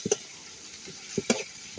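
Chopped onion and garlic fry in a pan under a low steady sizzle, broken by a few sharp clacks of a spoon stirring against the metal, close and brief.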